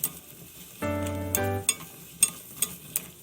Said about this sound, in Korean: 팬에 식용유 한큰술과 들기름 한큰술 넣고 새송이 버섯을 갈색이 될 때까지 볶아주세요